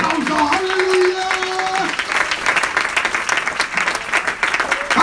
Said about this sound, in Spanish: Fuerte ese aplauso, aleluya.